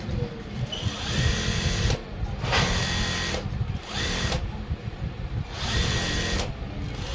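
A sewing machine top-stitches green blouse fabric in continuous loud whirring runs broken by brief pauses, with no talk.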